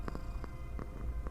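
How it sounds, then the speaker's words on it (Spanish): A house cat purrs close up in a soft, rhythmic rumble with regular breathy pulses, steady and quiet with no talk over it. "Voy a poner a mi gata a ronronear mientras me calmo un poco."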